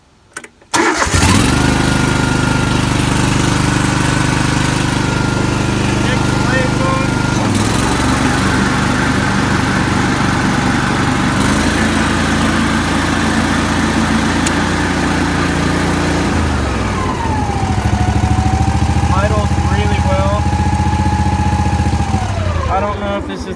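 A riding lawn mower engine cranks, catches and runs loud and steady at half throttle, with a rough, buzzing drone that shifts pitch a few times and a rising whine late on.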